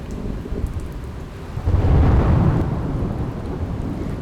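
Monsoon rain in Jamnagar, Gujarat, pours down as a steady hiss with a low rumbling swell midway through, heard alone without talk.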